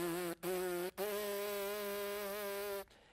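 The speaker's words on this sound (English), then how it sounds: "I buzz my lips faster." A brass player buzzes the lips fast for high notes, giving a bright, nasal, insect-like drone in three unbroken stretches separated by brief gaps, close and clear with no talking.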